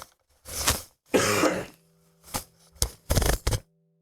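A single person nearby gives a string of coughs and throat-clearing bursts, some short and some drawn out, with brief silences between them.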